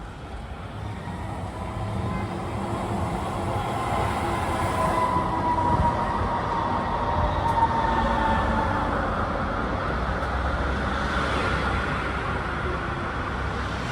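A U-Bahn train pulls into a street-level station on a line running in the street, a steady rumble of wheels and motors rising slightly as it approaches and holding close and loud throughout, with no voices.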